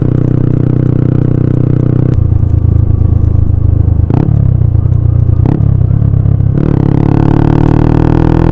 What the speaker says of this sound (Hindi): राइड करके दिखाऊंगा मैं आपको साउंड परफॉर्मेंस राइडिंग के समय कैसा है।